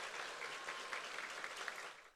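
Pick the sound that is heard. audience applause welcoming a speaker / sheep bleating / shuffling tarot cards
audience applause welcoming a speaker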